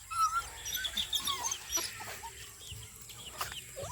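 Several chickens cluck and murmur nearby, short soft calls scattered over a quiet outdoor background with no talking.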